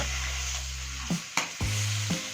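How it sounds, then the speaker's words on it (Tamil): Marinated fish frying on a non-stick tava over a medium flame, a steady close sizzle with a low hum beneath, broken by a few soft knocks as pieces are moved. "அந்த ஊறின மீன் எடுத்து போடுறோம் இப்போ நீங்கள் வந்து அடுப்பை வந்து ஒரு மீடியம் ஃப்ளேமில் வைங்க"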